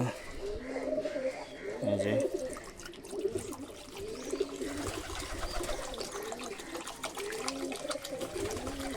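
Pigeons coo in low, throaty, repeated calls close by, with a faint trickle of water in the background as they are given medicated drinking water.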